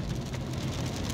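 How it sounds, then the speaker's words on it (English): Steady rain pattering on a car while driving to work, a dense, even hiss with a low rumble beneath, fairly faint and continuous, no voices. "Today it's raining."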